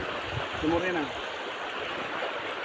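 A farm stream rushes in a steady, even wash of flowing water, with a brief vocal sound early on.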